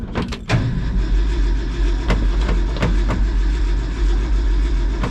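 A 1970 Ford F250 engine cranks and catches, then runs with a steady loud rumble. Sharp clicks and knocks sound over the engine noise.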